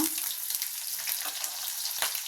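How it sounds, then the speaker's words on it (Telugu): Sliced onions frying in hot oil with whole spices for chole masala curry, a steady close crackling sizzle throughout a short stretch. "ఉల్లిపాయలు ఫ్రై చేసుకున్నా"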